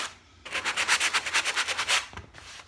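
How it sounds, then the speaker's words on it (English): A hand sweeps back and forth over painted upholstery fabric, producing a run of about a dozen rhythmic, close scratchy rubbing strokes that stop abruptly, followed by a brief softer brush. "you can take your hand over the fabric"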